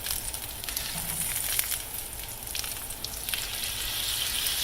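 Breakfast food sizzles in oil in a pan for a big country breakfast, giving a steady, close hiss and crackle that runs throughout with no talk over it.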